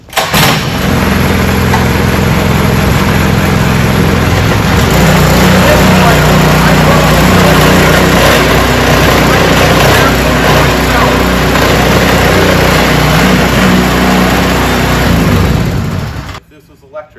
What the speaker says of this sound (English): This is actually a 4-stroke engine, right? It's a slice seeder.